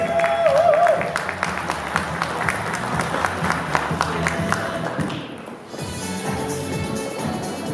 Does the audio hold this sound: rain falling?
no